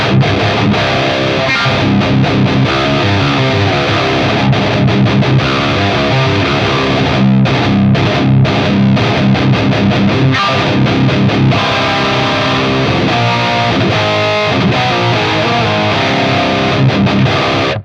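Heavily distorted electric guitar through an Archetype Lead amp model on a Line 6 HX Stomp, bridge pickup, plays a loud, sustained lead line with thick, saturated tone and bending, ringing notes, alone without any talking.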